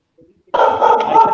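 A dog lets out a single loud, sustained close bark or yelp after a moment of near silence, ringing on to the end.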